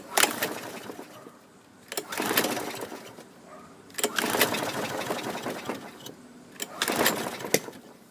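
A rusty, long-neglected Husky lawn mower with a rusted carburetor and weak compression is pull-started, with three separate rasping recoil pulls spaced a couple of seconds apart, each a short burst without the engine catching.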